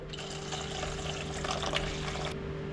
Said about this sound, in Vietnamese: Tiếp theo thì mình sẽ cho vào đây là 100ml nước sôi.